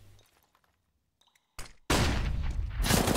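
A flashbang grenade bursts in a competitive shooter match, a sudden loud blast after a near-silent stretch and a brief earlier crack, then a sustained bright ringing roar that fills the rest of the moment.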